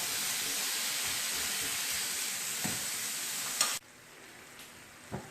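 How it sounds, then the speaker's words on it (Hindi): Chicken sautés in a pan over medium heat, cooking for bread gold coins, with a steady close sizzle and a few stirring scrapes; the frying noise drops noticeably quieter near the end. "मैंने 1 से 2 मिनट के लिए चिकन को सौटे किया"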